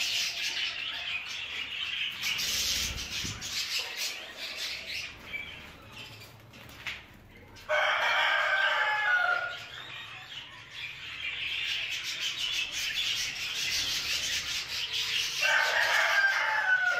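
Budgerigar chicks from a lutino red-eyed hen and a normal male chirp and rasp inside the nest box, dense high scratchy calls in loud bursts with rustling between, close up and without talk.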